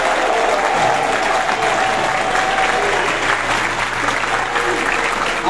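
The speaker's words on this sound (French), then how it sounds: "Applaudissez Yamadou, s'il vous plaît." Sustained applause from a large audience at a political gathering in Paris for Mali, dense and steady throughout, with faint voices mixed into the crowd noise.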